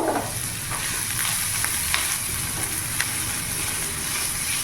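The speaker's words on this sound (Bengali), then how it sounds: "ভালো করে নাড়াচাড়া করে নেব।" Chicken pasta with carrots being stirred in a pan, giving a steady soft sizzle with light scraping strokes, close and moderately quiet, with no talking.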